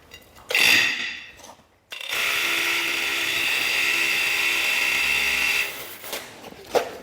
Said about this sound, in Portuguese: vamos fazer um furo nesse pedaço de granito aqui, ó, de 2 centímetros